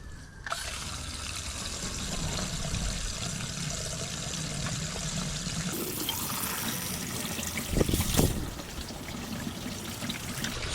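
Hose pipe water flushing debris out of a classic Mini Cooper RSP engine block and head: steady, continuous gushing and splashing for about ten seconds, with a brief surge of louder splashing near the end and no talk.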